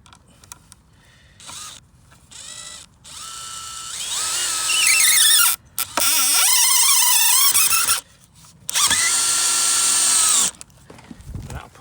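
A power drill drives a 70 mm screw into wood while shelving is added to an allotment fruit cage, with several whining bursts of rising motor pitch and short pauses between them.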